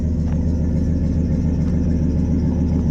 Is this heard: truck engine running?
yes